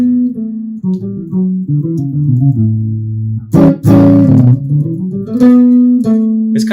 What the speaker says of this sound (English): So if I play something Mixolydian, it's gonna sound like this.